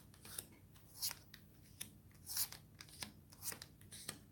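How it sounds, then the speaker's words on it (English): Tarot cards laid out one by one on a table, giving quiet papery snaps and slides in an irregular rhythm, close and faint, with no talking. "We're going to get these cards laid out"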